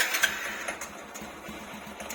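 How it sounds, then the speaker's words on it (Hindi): A cold motorbike with a kill switch starts and settles into a steady, fast-pulsing idle, heard close and alone with no talking. "तो अब मैं आपको इस बाइक का साउंड सुनाता हूँ"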